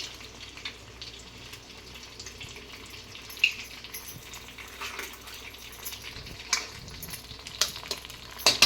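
An egg with salt and chili powder sizzles steadily in a hot pan, with occasional scraping stirs and small clicks of a utensil, no talking.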